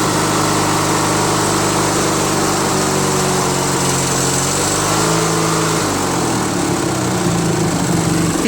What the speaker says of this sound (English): the engine runs just fine